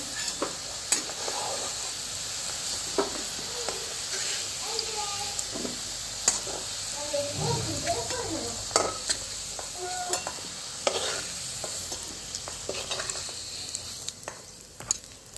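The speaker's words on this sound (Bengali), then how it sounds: "আলুগুলো আমার ভাজা হয়ে গেছে নুন হলুদ দিয়ে।" Potatoes fried with salt and turmeric sizzle in a pan while a utensil stirs and scrapes them, producing soft continuous frying noise with scattered clinks, and some quiet talking drifts in.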